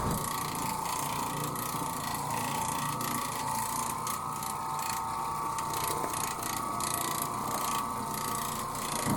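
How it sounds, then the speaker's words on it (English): A low-moisture orbital carpet cleaning machine runs steadily on carpet in a hallway, giving a constant close mechanical whir and scrubbing drone with a faint ratcheting texture throughout, no voices. "since this machine's Orbital, it's able to clean all the sides of the carpet fibers"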